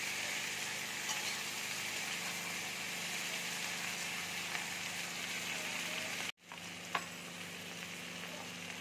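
Tomatoes frying in a pan for masoor dal, a steady loud sizzle running continuously, briefly cut off near the end before resuming with a sharp clink.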